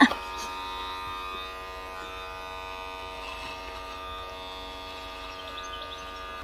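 An electric hair clipper trims a man's hair at home, giving a steady, thin buzzing drone that holds evenly throughout after a short bump at the start.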